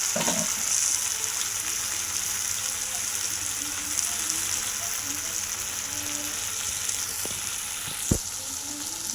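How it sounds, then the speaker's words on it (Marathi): Diced potatoes sauté in hot oil in a pan for potato chutney, a continuous close sizzle and crackle with faint stirring scrapes and one sharp tap near the end. "बटाटा चांगलं परतून घेतलं."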